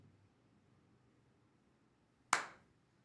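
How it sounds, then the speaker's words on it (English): A single sharp hand clap in a quiet room, one loud close crack with a short decaying tail after a stretch of near silence. "I'm gonna clap."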